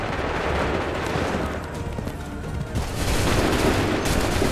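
A volley of musket gunfire crackles in Assassin's Creed 3, dense overlapping shots rolling into booming echoes, loud and continuous, then a second burst swells near the end.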